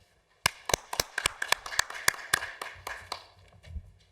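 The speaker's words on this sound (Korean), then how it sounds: "박수로 맞이해 주시기 바랍니다" Audience applause welcoming a speaker at a Korean health research institute's annual academic conference: a crisp round of clapping that starts suddenly, with distinct claps thinning out toward the end, no talking.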